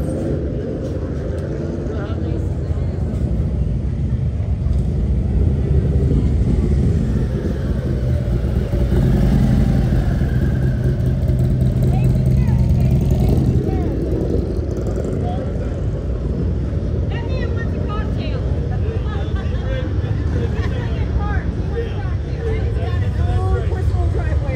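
Big motorcycles, one with an engine close to 2 liters, ride down Main Street in historic Deadwood during the 2024 Sturgis rally, a continuous loud, low rumble of engines passing close by.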